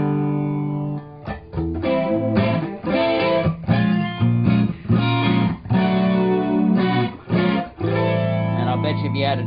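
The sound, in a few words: guitar analog flanger effect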